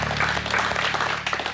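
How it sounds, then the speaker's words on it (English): A studio audience applauding on a fitness competition show, a steady, moderately loud clapping texture laid over a low humming background throughout. "Give them a clap."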